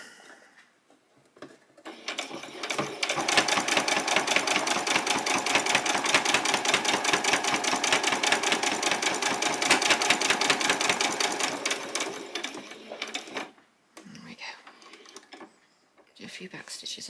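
Sewing machine back stitching Velcro onto a child's dress, running in a fast, even mechanical chatter for about ten seconds, then stopping, followed by a few short quieter bursts.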